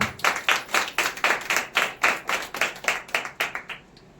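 A church congregation at a Sunday service claps together in a steady, rhythmic burst of about a dozen even beats, loud and close, fading out at the end with no voices over it.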